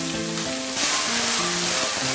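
Vegetables, bell pepper and lily bulbs stir-fried with ginger and sauce in a wok, a continuous close, loud sizzle that swells slightly as food is tossed, with no talk.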